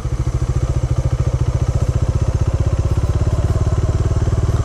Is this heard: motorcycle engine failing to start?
yes